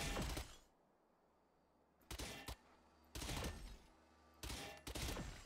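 Valorant practice-range gunfire comes in three loud bursts of rapid automatic shots, each about half a second to a second long, separated by quiet gaps, with one earlier burst at the start.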